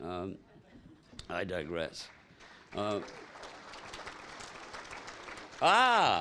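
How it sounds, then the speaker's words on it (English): Audience applause at an AA speaker meeting, a broad wash of clapping swelling between stretches of a voice in a large room, with talk before and after. "I love that applause, I love that applause"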